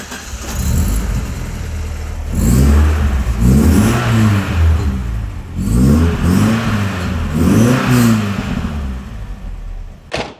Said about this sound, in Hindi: अब आपको ये गाड़ी स्टार्ट करके सुनाते हैं।